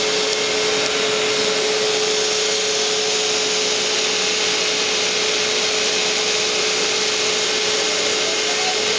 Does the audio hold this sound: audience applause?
no